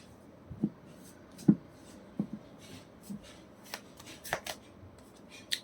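A deck of tarot cards is shuffled by hand in a quiet room, giving a run of soft, close riffles and taps at irregular intervals with no talking.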